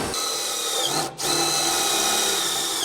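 A power tool drives bolts into a steel house frame, a loud, close, continuous high whine that cuts off for a moment and then runs again without voices.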